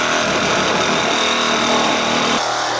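A reciprocating saw cuts off a body mount bushing on a Ford Super Duty truck, a loud, continuous, harsh buzzing that grinds steadily close up with no talk.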